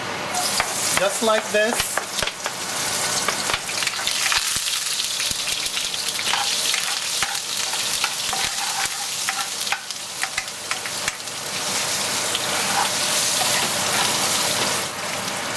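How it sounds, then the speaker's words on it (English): Galangal root and shrimp paste sautéing in hot oil, a loud, dense sizzle and crackle filling the whole stretch with occasional stirring scrapes, close up, while someone briefly speaks. "I'm gonna saute the Galanga root and the shrimp paste"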